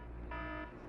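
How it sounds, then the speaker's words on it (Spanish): The Apollo 11 onboard computer's 1202 program alarm sounds once as a steady electronic tone lasting under half a second, fairly faint over a background hum. "1202. Alarma."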